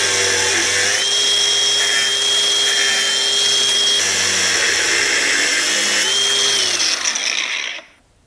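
An angle grinder cuts through steel bolts on seat rail extensions, whining loudly and steadily with slight shifts in pitch as it bites, then winding down to silence at the end.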